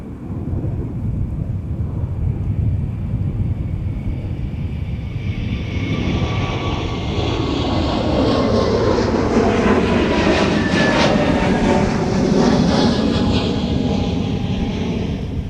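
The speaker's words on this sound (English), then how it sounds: "It's an A321 Neo headed to Fort Myers." An Airbus A321neo airliner on short final approach roars overhead, its loud engine noise swelling steadily and sweeping in pitch as it passes close by, with no voices.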